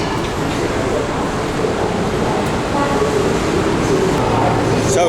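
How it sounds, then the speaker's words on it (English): Steady rumble and rush of a Kunming Metro subway train running above ground in daylight, loud and continuous with wheel and track noise throughout, a faint high squeal near the end. "So that is how you travel on the Kunming Metro."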